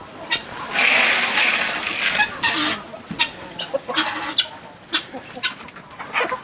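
Chickens cluck and a big rooster calls on a farm, a loud crowing burst early followed by scattered nearby clucks and squawks, with some faint human voice in the background.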